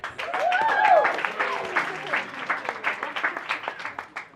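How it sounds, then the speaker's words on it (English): Crowd applause with scattered claps, fading into separate bursts as it dies down, with some voices and a whistle-like tone early on. "Let's keep the applause going"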